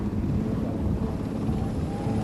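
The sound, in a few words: helicopter rotors landing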